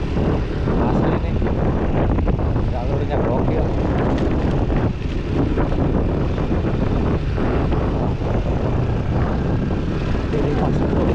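A Yamaha NMAX motor scooter rides a broken, rough road between Sukamakmur and Citeureup. A loud, constant engine drone and road rumble mix with heavy wind buffeting on the microphone, and a rider's voice breaks in briefly.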